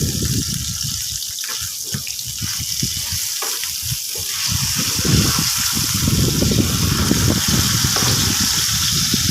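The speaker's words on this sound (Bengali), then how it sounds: "মাছ এতক্ষণে ভাজা হয়ে গেছে" Katla fish pieces fry in hot oil in a pan, a steady, dense sizzle and crackle that runs the whole time, close and fairly loud, with no talking.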